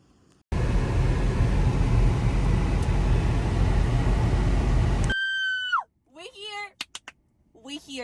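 A woman screams with excitement on arriving at a Barnes & Noble bookstore: a long stretch of loud, harsh distorted roar, then a shrill high-pitched squeal that drops in pitch, followed by a few short excited vocal bursts.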